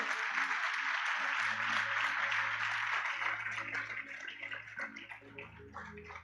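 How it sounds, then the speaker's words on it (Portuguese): Church congregation clapping for Jesus during a sermon, dense sustained applause with a low hum or organ tone under it, steady and loud before tapering slightly toward the end. "Dá um salve de palmas para Jesus aí"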